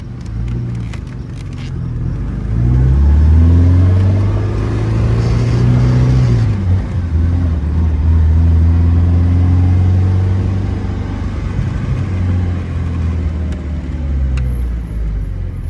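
A 1969 Alfa Romeo Spider Veloce driving with the top down, its engine rumbling steadily near and loud, rising in revs and dropping as gears shift, with wind noise over the drone.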